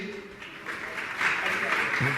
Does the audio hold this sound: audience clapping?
yes